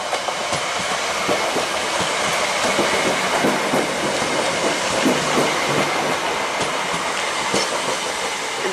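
A class 318 electric train passes through Jordanhill station on its way to Dalmuir, a loud, continuous rumble with rhythmic wheel clatter and faint squeals, with no voices over it.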